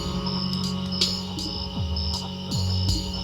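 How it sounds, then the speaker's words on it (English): Cricket-like night chirping in a music track: repeated short high chirps pulse over a low droning hum, with gliding tones sliding downward. "It's interesting because I hear night sounds like crickets."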